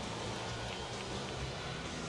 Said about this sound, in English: And the rain continues to fall.